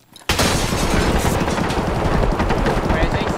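Rapid automatic gunfire rattles in a first-person shooter video game, starting abruptly and continuing loud and dense for several seconds, with a voice faintly mixed in beneath.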